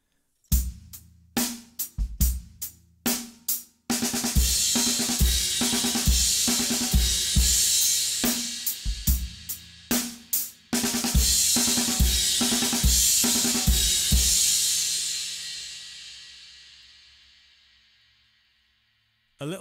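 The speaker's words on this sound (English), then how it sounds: "if I put that into some sort of groove and use the 5-stroke roll as a fill" Drum kit groove at a slow tempo with snare, bass drum and hi-hat, broken by a five-stroke snare roll used as a fill ending on crash cymbals, whose shimmer rings and fades into a long decay near the end; close and alone.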